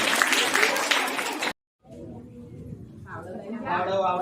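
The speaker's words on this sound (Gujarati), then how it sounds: "તાળીઓ ગાળો ભાઈ" An audience at a primary-school costume show claps in a dense burst of applause lasting about a second and a half, which cuts off abruptly, after which someone talks.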